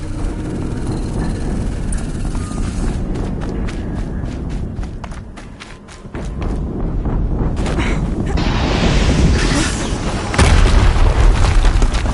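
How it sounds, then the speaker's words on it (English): Explosions in the video game Horizon Zero Dawn, a deep booming blast over dense game noise, with sharp bursts and crackle, then a second heavy rumbling boom near the end. "Another explosion."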